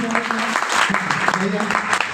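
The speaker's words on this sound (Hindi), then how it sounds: "एक बार जोरदार ताली से स्वागत करें" An audience gives a hearty round of clapping in a hall, dense and continuous applause over a brief stretch, with voices mixed in underneath.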